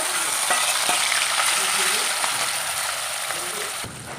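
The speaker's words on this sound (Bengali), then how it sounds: "এখানে যে মাছ লবণ আর হলুদ দিয়ে মেখে রেখেছি এটা কিন্তু হালকা করে ভাজতে হবে" Small fish rubbed with salt and turmeric fry in hot mustard oil, giving a steady, dense sizzle with a few faint clicks and stirring scrapes, close and continuous.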